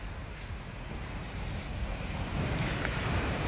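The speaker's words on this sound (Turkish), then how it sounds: "şöyle rüzgar hafif hafif esiyor" Wind blows outdoors at Esenköy, a steady close rushing and buffeting across the microphone that builds slightly toward the end, with no voices.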